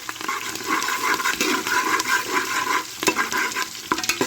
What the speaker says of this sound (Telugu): తగినన్ని పచ్చిమిరపకాయలు వేసేసుకుంటాను. పేలుతున్నాయండి.